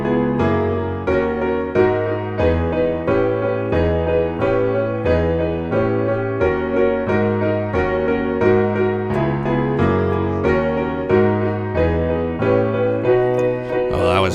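Piano chords from the chorus progression of a song, played in a steady rhythm that repeats and loops back on itself like a skipping record, full and close with no talking.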